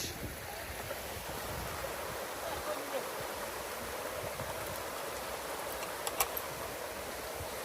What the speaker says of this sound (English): I know it's not a waterfall as such, but I do love the sound of water.